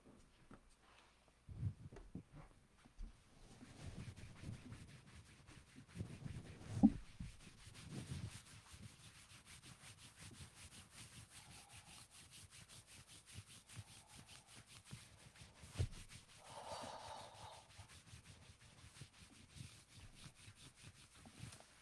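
A person's back rubbing up and down on the floor gives soft, irregular brushing and scuffing strokes with occasional light thumps, faint and close, with no voices.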